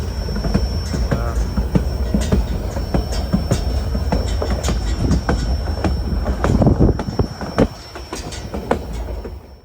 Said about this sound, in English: I get on the back of the train car on the caboose